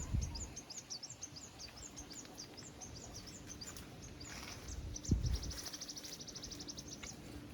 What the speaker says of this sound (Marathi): सगळीकडे पक्ष्यांचा आवाज येईल तुम्हाला